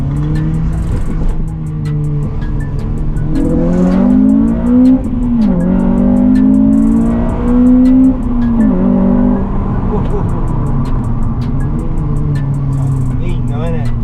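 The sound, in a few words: Honda Civic Type R FN2 revving with Tegiwa exhaust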